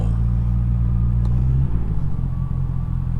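A motorcycle fitted with an SC Project exhaust idles close by with a deep, steady rumble, then the engine note shifts and settles as the throttle changes, with no talk.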